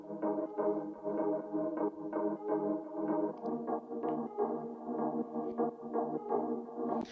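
A Serum synth melody layer for a house track plays a bright, bouncing sequence of short notes in a steady rhythm, with effects applied and no voices.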